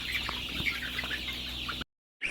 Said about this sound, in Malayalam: Venkateswara ഹാച്ചറിയുടെ B V three eighty കോഴികളാണ്